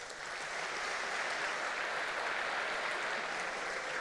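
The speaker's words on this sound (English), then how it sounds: "let's please help me welcome our president of our university, Santiago Iñiguez, with a warm applause" Warm, steady applause from a crowd of students welcoming a university president at a welcome event, a dense, even wash of clapping that holds for the whole stretch.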